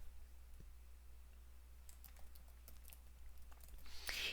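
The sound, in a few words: typing code on a computer keyboard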